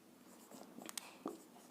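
A heading is written on a board in a few quick, faint scratchy strokes, soft and close in an otherwise quiet room.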